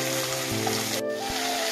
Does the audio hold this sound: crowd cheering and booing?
no